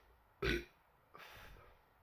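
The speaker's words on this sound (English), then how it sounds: "It's if I burp some good beer" A single low burp after drinking Leffe Blanche wheat beer on draft, short and faint and close to the mic, followed by a softer breathy exhale.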